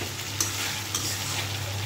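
Meat being stir-fried (kosha) in a pan, a steady low sizzle with soft scraping stirs of the spatula, close and fairly quiet with no talking.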